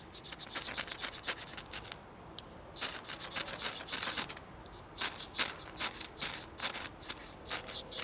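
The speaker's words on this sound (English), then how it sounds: "I'm just going to demonstrate for you guys how well it sparks. Basically, using the plant and scrape method" An Überleben Kräftig ferro rod, a soft rod, struck with the plant-and-scrape method, giving repeated harsh, close scraping rasps in quick bursts, with short pauses between strokes and no talk.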